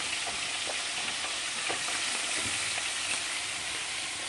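Steady, loud sizzling of food frying in a pan, a continuous crackling hiss with faint pops, no voices.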